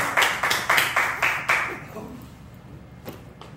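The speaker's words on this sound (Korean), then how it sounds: "다 같이 박수로 환영하겠습니다" Applause at a Korean church prayer meeting, heard as about six sharp, evenly spaced group claps that then stop, leaving a quiet room with a faint tap near the end.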